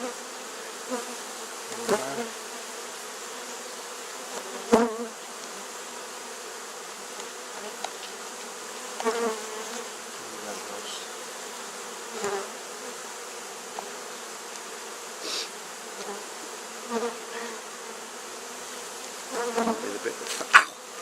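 A dense swarm of honeybees, being moved into a top bar hive, buzzes steadily up close, with occasional louder passes and small knocks over the continuous hum.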